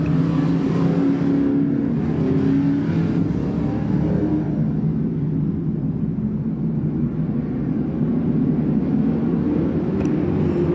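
Pro stock race cars run at speed on the dirt oval at Albany-Saratoga Speedway, engines roaring loudly and continuously as they pass and rev, with the pitch swelling and fading through the pack.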